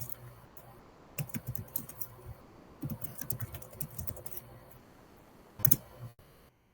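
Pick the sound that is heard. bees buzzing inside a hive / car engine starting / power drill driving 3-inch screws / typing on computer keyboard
typing on computer keyboard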